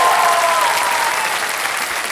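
A studio audience on a television quiz show claps loudly and continuously, a thick, steady roar of applause that holds at full strength with no talking over it.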